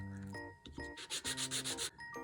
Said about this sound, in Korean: 이 위에서 사포질을 해주세요.